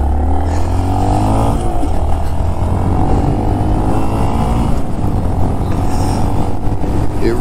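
A 2022 Honda Monkey 125 motorcycle revs steadily through its gears at close range, its engine drone loud and continuous with slight pitch shifts as it shifts up toward fifth gear.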